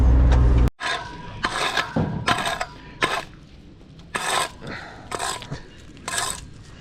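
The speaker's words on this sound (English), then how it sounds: "I'm gonna rake this up and see what it looks like." Gravel being raked for a paver walk beside a newly installed driveway: close, loud scraping strokes in an uneven rhythm, each a rough rasping drag, with pauses between.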